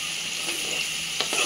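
Garlic paste hits hot oil for mango pickle and sizzles steadily, a bright continuous frying hiss with faint stirring clinks near the end, no talking.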